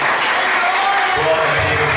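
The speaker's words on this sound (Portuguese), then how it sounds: "Vamos dar em palmas para Jesus." A church congregation claps for Jesus during a family worship service, steady mixed applause filling the room with a voice talking over it.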